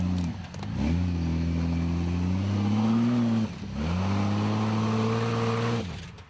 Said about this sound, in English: Emily Taylor and Chris Cahill are up next in the 75 Series Landcruiser.